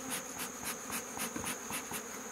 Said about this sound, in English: you can see that there are bees flying out